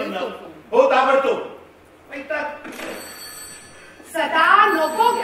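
During a Marathi stage play, a telephone bell rings briefly in a gap between stretches of close, loud dialogue from the actors.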